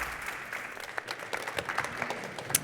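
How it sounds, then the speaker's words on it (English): A live audience at an art-fair panel discussion gives a warm round of applause, a dense, moderately quiet patter of many hands clapping steadily with no talking over it. "please do join me in giving them a very warm round of applause"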